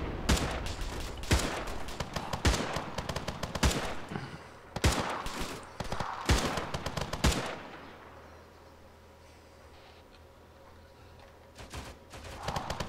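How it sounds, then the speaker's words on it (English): Rapid bursts of gunfire in ARMA 3, loud volleys crackling in clusters through the first seven seconds, then a quieter lull with faint distant shots near the end. "We're taking fire, though."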